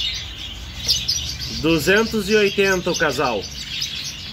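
Red-rumped parrots in a shop cage give a short burst of rapid, warbling chirps in the middle, close and fairly loud, as someone talks briefly nearby.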